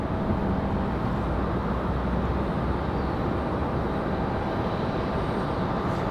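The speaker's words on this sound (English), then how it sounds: "United 1769, they're off to San Francisco, 737 MAX 8" A United Boeing 737 MAX 8 departs Raleigh-Durham airport with a loud, steady broadband jet roar that holds constant throughout, with no pause or break.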